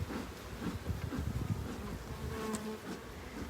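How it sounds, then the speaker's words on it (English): A steady, dense buzzing of many honeybees fills the clip, low and continuous with no voices. "these bees are generally pretty calm today"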